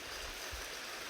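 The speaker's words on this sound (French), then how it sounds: "là il pleut" Rain falls steadily outdoors in Sumatra, a dense, even hiss with no pauses, heard alone over about a second.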